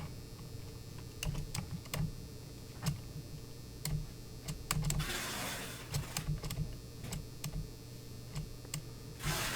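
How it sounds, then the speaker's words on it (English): A computer keyboard being typed on for a find search in a catalog, with scattered, crisp key clicks in short irregular bursts and a brief rustle midway, close and fairly quiet with no talk. "Just doing a find function on our keyboard"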